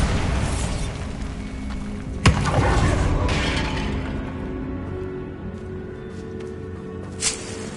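Bombarda explosion spell cast in Hogwarts Legacy, a sharp blast followed by a booming, rumbling burst of debris that decays over several seconds, with a second smaller crack near the end.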